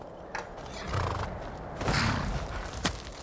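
A horse in the video game Skyrim whinnies, a drawn-out neigh rising over soft game ambience with a couple of hoof thuds, fairly quiet and with no talking.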